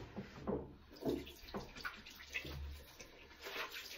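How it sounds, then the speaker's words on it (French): Water splashing and dripping as a face is rinsed at a basin, with soft irregular splashes and trickles close by during a facial care routine. "Donc là, je vais me rincer."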